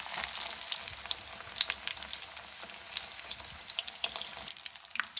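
Chana dal kachori fry in oil over low-medium heat, giving a steady crackling sizzle with sharp little pops and spits close by and no talking.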